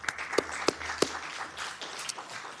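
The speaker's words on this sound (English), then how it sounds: "They deserve a round of applause if you have it." Sparse applause from an audience at a Sacramento City Council meeting: a few scattered claps, fairly faint in a large room.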